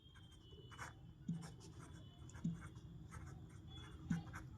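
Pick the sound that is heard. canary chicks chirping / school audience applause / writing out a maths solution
writing out a maths solution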